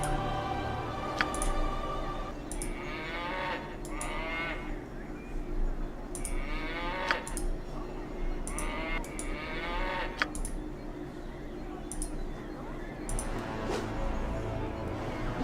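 A cow in the video game Baldur's Gate moos again and again in drawn-out calls, with sharp clicks and hits scattered between them.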